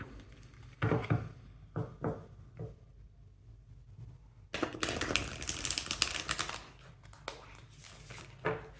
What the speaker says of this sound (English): Let me first reshuffle my deck.